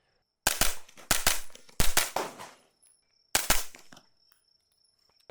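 Suppressed gunshots from a HUXWRX Flow 9K Ti on a JP-5, firing subsonic ball ammunition: three quick rapid bursts of sharp muffled reports, a pause, then one more burst, fairly close and alone.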